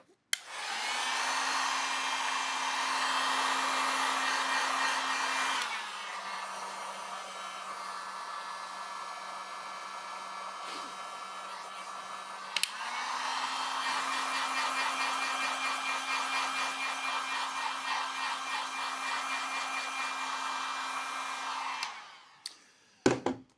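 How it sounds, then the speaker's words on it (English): A hair dryer blows continuously up close on wet watercolour paper, shifting between two speed settings partway through, then switches off near the end. "using a hairdryer definitely will speed up the drying"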